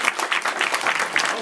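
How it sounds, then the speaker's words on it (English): An audience claps at a live family event, a brisk burst of scattered hand claps with uneven, lively rhythm, fairly close and filling the clip alone without talk. "Clap for them, everyone."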